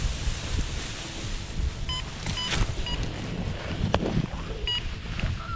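Light wind at an outdoor launch site buffets the microphone in a steady rough rush, with faint scattered knocks and creaks, and no voices.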